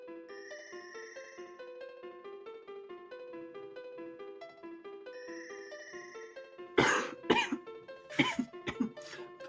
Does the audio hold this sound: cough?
yes